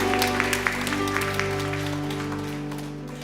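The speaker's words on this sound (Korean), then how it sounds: "우리 주님께 영광의 박수 올려드리겠습니다." Congregation applause at a Sunday service in a Korean Presbyterian church in Detroit, a few seconds of clapping over sustained organ-like chords that fades toward the end.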